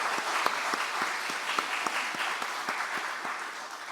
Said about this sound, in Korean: 선생님들 위해서 다시 한번 격려의 박수하도록 하겠습니다